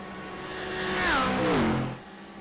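GT3 race cars at Imola in the iRacing sim scream past, engines rising and falling in pitch as they approach and pull away over about two seconds, loud and close with no talk.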